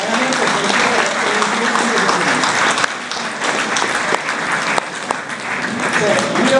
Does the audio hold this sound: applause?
yes